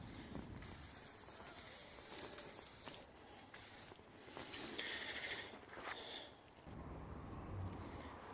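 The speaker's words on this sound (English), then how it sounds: "Let's give it a quick WD-40 all over." WD-40 sprays in long hissing bursts over an old Suffolk Punch lawn mower engine, close and steady with short pauses between the bursts.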